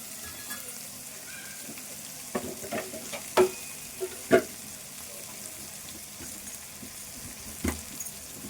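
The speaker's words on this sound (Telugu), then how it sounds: "ఈ రొయ్యలన్నీ ఇట్లా వేగాలి. కొద్దిసేపు ఈ నూనెలో వేగాలి." Prawns fry in oil with a soft continuous sizzle, broken by a few sharp clinks and scrapes of a stirring utensil against the pan.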